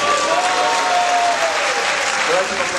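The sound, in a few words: audience applause after a lecture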